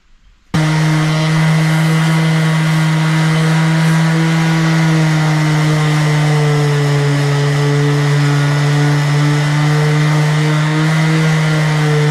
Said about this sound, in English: Sand it off there